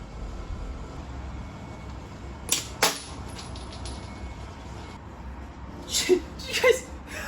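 A freeze plug pops out of an RB25 engine head with two sharp, loud bangs a moment apart, followed later by clattering impacts and scraping in a garage, with faint background noise throughout.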